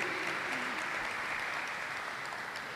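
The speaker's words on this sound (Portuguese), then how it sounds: "Aplaudimos el nombre del Señor." An audience at a church youth conference claps in continuous, dense applause that holds steady and eases slightly toward the end.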